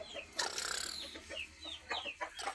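Chickens and chicks clucking and peeping close by, a quick series of short chirps and clucks in irregular rhythm, fairly faint with no voices.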